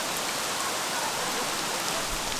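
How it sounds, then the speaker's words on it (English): Heavy torrential rain pours down in a dense, steady roar of drops striking surfaces, unbroken and close, with no voices. "Hear the rain? It's gotten a lot harder progressively in the last 2 minutes."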